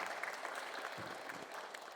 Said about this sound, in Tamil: அதை நான் சொல்லும்போது கைதட்டுறீங்க இல்லையா